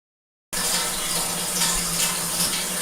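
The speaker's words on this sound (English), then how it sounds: "I get to use my wife's cool pot filler, which makes it pretty easy considering I got to deal with 8 gallons of water" A kitchen pot filler faucet runs steadily into a brew kettle, filling it with about 8 gallons of water for an indoor brew-in-a-bag beer batch, a loud continuous gushing splash that starts abruptly and holds even.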